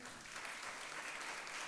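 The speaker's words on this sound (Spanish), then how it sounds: "El aplauso entonces" An audience claps at an award ceremony honoring a law professor, a faint, steady patter of applause from a distance with no voices standing out.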